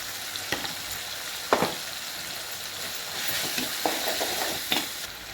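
Tomatoes frying in a pan for chicken kulambu give a soft steady sizzle, with occasional sharper scrapes and clinks of a spoon stirring, close and moderately quiet, no voices.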